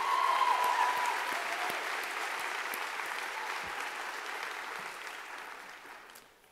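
Audience applause at a Peoples Bank staff meeting, a steady wash of clapping from a sizable crowd that holds for several seconds and then gradually fades.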